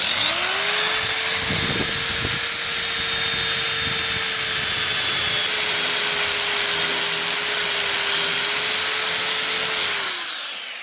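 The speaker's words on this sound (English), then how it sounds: "you just take a drill bit and aug it out" A power drill spins up and runs steadily at high pitch for about ten seconds, boring out a hole while fitting a Mustang short throw shifter to a T5 gearbox, loud and close, then winds down.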